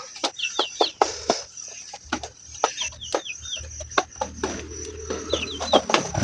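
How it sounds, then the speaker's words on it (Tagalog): Chickens cluck and chirp in short bursts while being fed corn beside a road, sharp pecking taps and rustles close by, with a faint hum in the background. "Ayan akong pinapakain sa aking mga manok."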